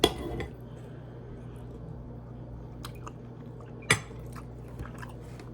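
Cutlery scrapes and clinks against a plate while someone eats a carnivore meal of sirloin steak and runny pasture-raised eggs, with quiet chewing and one sharper clink partway through, close and fairly soft.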